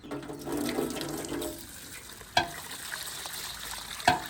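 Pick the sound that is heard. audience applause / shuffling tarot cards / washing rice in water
washing rice in water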